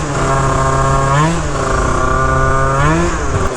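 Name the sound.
Phantom F12 70cc scooter engine starting and running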